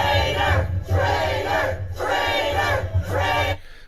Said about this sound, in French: ils sont en train de scander traitor